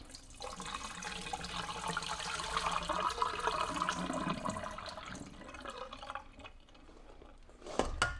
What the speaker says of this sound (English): I'm going to drain my cranberries.